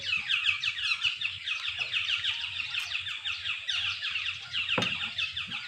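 Many birds call together by a mountain lake in a dense, continuous chorus of rapid chirps and trills, with a faint low rumble underneath.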